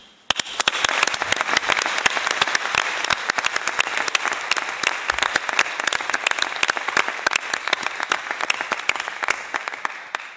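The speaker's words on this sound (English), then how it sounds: "Please join me in a big round of applause to express our sincere gratitude to them" Delegates on the floor of a resumed COP-15 conference session applaud in gratitude, a long, loud, even stretch of clapping with sharp individual claps standing out before it fades at the end.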